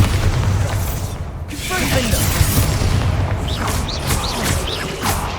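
Bombarda spell blasts in the Hogwarts Legacy video game, deep booming bursts rolling under magical whooshes and shimmering tones, loud and close amid continuous combat noise.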